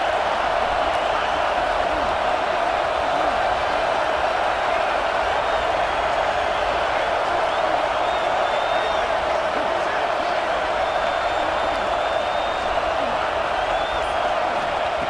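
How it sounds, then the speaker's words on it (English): A football stadium crowd in a UTEP Miners game roars steadily to fire up the defense before a red-zone stand, a dense sustained wall of cheering and shouting that never lets up. "here comes the noise. This crowd is trying to inspire this defense to make a big red zone stop."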